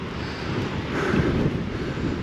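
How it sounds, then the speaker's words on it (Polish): Steady cold wind gusts roar and buffet the microphone on the St. Gotthard Pass in Switzerland, a low rushing rumble that swells briefly in the middle. "wieje mi teraz w twarz taki konkretny wiatr, ale jest on na tyle zimny"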